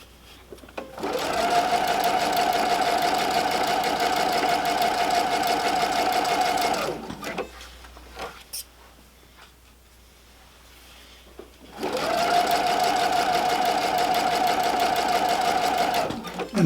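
A sewing machine runs a straight stitch along a shawl hem in two long steady whirring passes, with a quiet pause between them, close and even.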